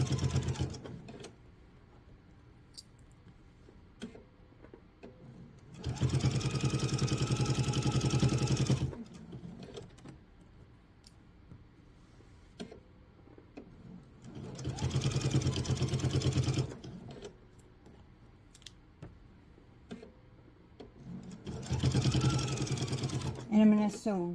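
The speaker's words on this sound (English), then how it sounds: "I'm going to sew right to the very bottom, and then I'm going to reverse about 3-4 stitches" A sewing machine stitches a laptop sleeve in three bursts of steady whirring, each lasting a few seconds, separated by quieter pauses filled with handling clicks and light fabric rustle.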